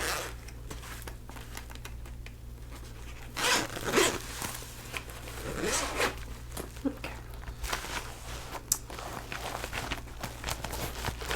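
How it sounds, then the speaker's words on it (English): A thin travel pencil pouch being unzipped, its zipper rasping in a few close, quiet pulls with soft crinkling handling noise between them. "Let me unzip that."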